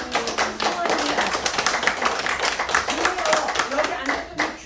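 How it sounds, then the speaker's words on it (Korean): Audience clapping at an essential oil lecture, a fairly loud, busy patter of many hands mixed with overlapping chatter and voices throughout. "박수"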